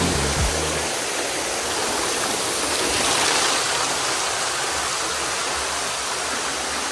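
A loud, steady roar of rushing water from a nearby waterfall on Siquijor Island, Philippines, filling the whole stretch with constant white-noise spray.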